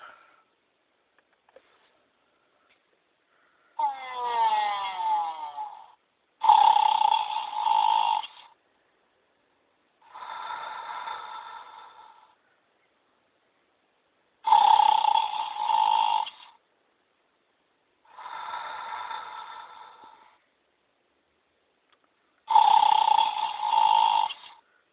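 A sleeping horse snores loudly and rhythmically, with about six long rasping breaths spaced by quiet pauses, close to the listener and without talk.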